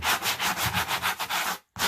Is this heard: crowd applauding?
no